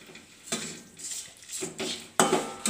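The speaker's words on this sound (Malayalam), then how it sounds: "ഇട്ട് നല്ലതുപോലെ എല്ലാ ഭാഗത്തും പിടിക്കത്തക്കവണ്ണം ഒന്ന് ഇളക്കി കൊടുക്കാം" A utensil scrapes and clatters against a pot while spiced chicken is stirred for vermicelli biryani, in a few short, close bursts with gentle sizzling between them.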